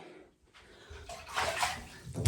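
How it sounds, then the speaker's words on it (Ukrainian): Water runs into a bathtub in short bursts, a splashing gush that rises toward the end, close and fairly quiet, with a brief pause near the start. "Набрала в ванну води"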